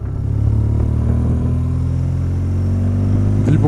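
A motorcycle engine on a mountain road during a Tour du Mont Blanc ride in August 2023 drones steadily and loud, a low continuous rumble with slight revving, with no talk.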